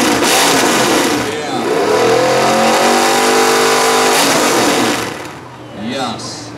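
Loud, close revving of a demolition derby car with a 5.3-liter LS engine, rising and holding in a roaring pitch sweep before dropping off, with a crowd and an announcer's amplified voice over it.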